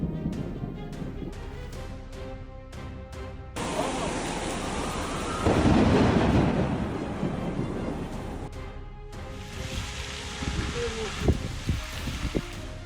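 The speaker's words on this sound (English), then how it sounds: "Lightning illuminated the entire New Jersey sky as the storm rolled in" Thunderstorm rolling in over New Jersey: a heavy rumble of thunder swells in the middle amid wind and rain noise, with buffeting on the microphone and a few sharper cracks toward the end.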